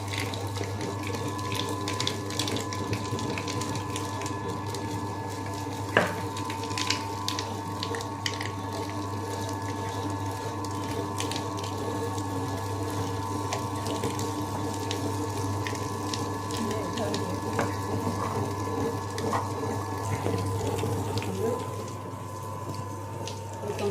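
A wet grinder runs steadily, grinding thick batter for vadai with rock sugar, a continuous close mechanical hum and watery churn that carries on without a break.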